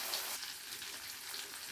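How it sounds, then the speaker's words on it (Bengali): Chicken pieces frying in oil in a pan, a soft steady hiss and crackle continuing unbroken, fairly quiet and close. "আমি কিন্তু সবগুলো উল্টিয়ে পাল্টিয়ে ভেজে নিচ্ছি"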